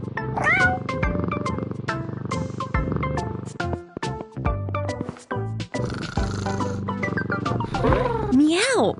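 Cats meowing in a lively, tonal sequence of repeated calls and cries, loud and close, with bright sliding meows rising toward the end, accompanied by playful musical sounds and a voice.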